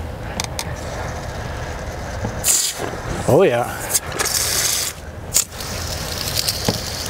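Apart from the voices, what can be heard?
water spray from Travato RV exterior wash station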